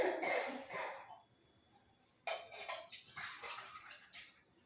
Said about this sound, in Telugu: 1/2 కేజీ బెల్లం తడిసేటట్టు 1 గ్లాసు నీళ్లు పోయాలండి.